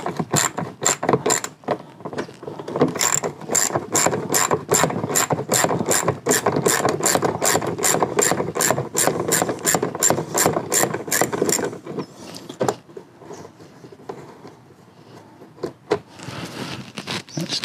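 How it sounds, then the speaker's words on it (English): A hand ratchet clicks in rapid, loud bursts while bolts are removed from the rear bar of a Toyota Land Cruiser 80 Series, the ratcheting running steadily for about twelve seconds before fading into a few scattered mechanical clicks. "So we've got one bolt here that comes out."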